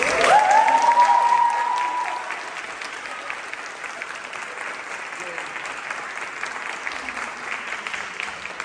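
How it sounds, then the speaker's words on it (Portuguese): Theatre audience applauding after a stage performance as crew members are thanked, a soft steady patter of clapping with a brief tonal note at the start, continuing at moderate loudness throughout. "E eu só quero pedir uma salva de palmas"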